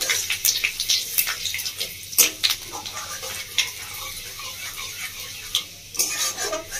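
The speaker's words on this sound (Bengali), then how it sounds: "আমি ফোড়নটা একটু ভালো করে ভেজে নেব।" Panch phoron and radhuni spices fry in hot oil for musur daler bora, a steady close sizzle broken by sharp scraping stirs and clinks of a spoon against the pan, with no voices.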